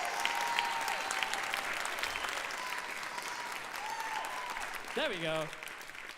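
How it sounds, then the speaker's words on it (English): Sustained audience applause fills a VR awards ceremony hall, dense and steady throughout, with a brief spoken voice near the end. "I want to hear you guys clap louder than you've ever clapped before."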